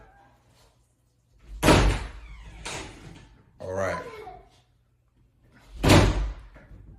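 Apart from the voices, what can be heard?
room door being closed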